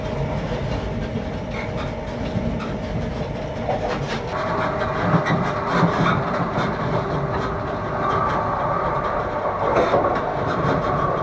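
A train approaching Aberdeen, Scotland, rumbles steadily along the rails with faint rhythmic clickety-clack, heard from inside a carriage, continuous and moderately loud.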